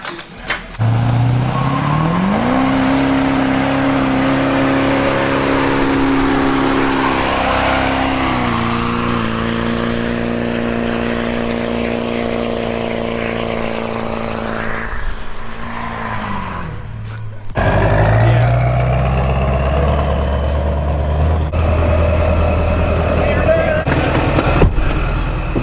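A Duramax diesel truck on a test drive, its engine droning and rising through steady acceleration, loud and close, with a few voices speaking over it.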